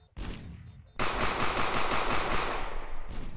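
Rapid gunfire from a guard's shotgun in the stealth game Sneak Thief: a brief opening burst, a short pause, then a loud, sustained run of closely spaced shots.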